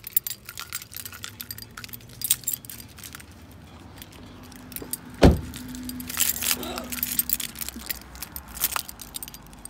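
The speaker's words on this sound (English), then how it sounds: "I gotta get the keys to the house." House keys jangle and clink in a few bright metallic bursts near the end, mixed with car sounds including a sharp thump, a low steady hum and scattered rustling.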